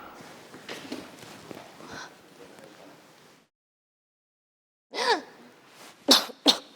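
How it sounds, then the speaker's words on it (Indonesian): A person coughs sharply several times, a cluster of loud coughs after a quiet pause, preceded by softer murmuring and shuffling. "Kaget sampai batuk."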